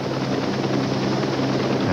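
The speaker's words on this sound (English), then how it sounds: "the helicopter was there" A helicopter's rotor thumps in a loud, steady rhythmic beat, close overhead, with a constant engine drone beneath.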